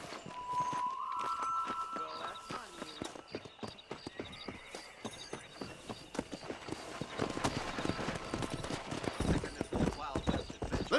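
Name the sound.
horse galloping in video game Red Dead Redemption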